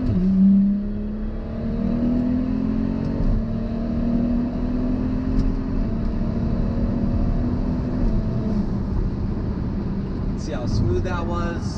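A 2011 BMW 135i accelerating on a freeway, heard from inside as a loud engine drone that rises in pitch through the gears, with brief dips at shifts and steady road noise.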